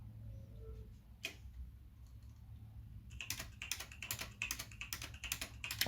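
Keys on a Logitech G910 mechanical keyboard with a faulty E switch, pressed close up: a single click early on, then a quick rapid run of crisp clacks building toward the end over a low background hum, with no talk.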